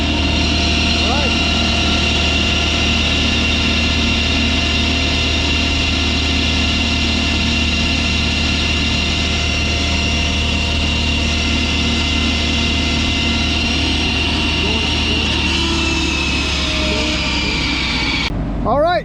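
A TMC Cancela THI-100 mulcher motor runs steadily at high RPM, a loud sustained mechanical drone with a constant pitch that shifts slightly near the end.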